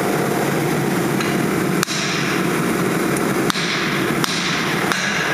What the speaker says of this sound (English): Might need to take a hammer to it once the caliper mounting bracket's off and tap it off